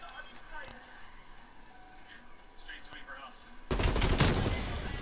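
Gunfire with heavy recoil in a video game search-and-destroy match: quiet, tense ambience with scattered clicks, then a loud, sustained volley of rapid shots erupts and keeps going, with voices underneath.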